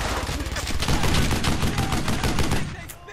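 Sustained machine gun fire in the World War II shooter Brothers in Arms: Hell's Highway, a loud, rapid stream of close rattling shots that tails off at the end.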